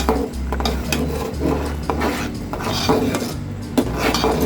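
A spoon stirs chicken vegetable Thai soup in a metal pot while beaten egg is added, giving steady close scraping and clinking against the pot over a constant low burner hum.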